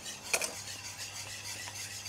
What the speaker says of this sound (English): Just stir that through.